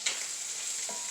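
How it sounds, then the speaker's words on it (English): Rice in a pan gives a brief, even sizzle with a faint stirring scrape, heard close and alone with no talking. "stir my rice here"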